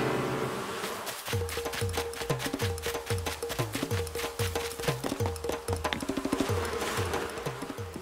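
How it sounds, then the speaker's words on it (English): Swarm of bees in Animal Crossing: New Horizons buzzing steadily alongside a pulsing, repetitive tense music loop, moderately loud and continuous with no talking. "Not the bees. Not this time."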